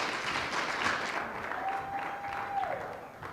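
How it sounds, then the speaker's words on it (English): An audience at a business training seminar applauds two volunteers after a demonstration, a moderate, steady round of clapping with a faint sustained tone running through the middle. "Y'all give them both a big round of applause."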